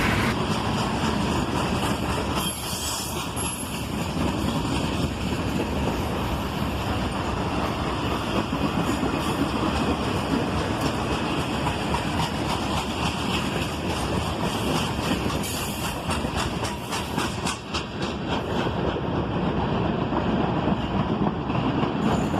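A Chessie System freight train of gondolas and boxcars rolls steadily past close by, a loud continuous rumble of wheels and car bodies with rattles and squeals, and no talking.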